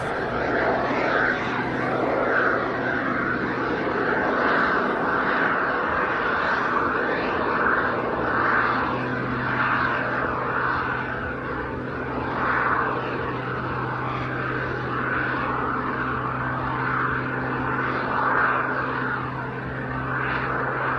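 A one-off modified aircraft displaying at the Ayr air show's Festival of Flight 2024 gives a continuous, loud engine roar with a steady droning hum for about twenty seconds, swelling and easing slightly as it manoeuvres.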